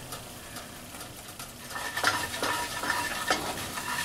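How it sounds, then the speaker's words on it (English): Smoke-flavored sausage gravy is stirred steadily in a pan, with repeated close scraping strokes against the bottom that grow louder and more rhythmic partway through as the gravy thickens. "Keep the stirring constantly."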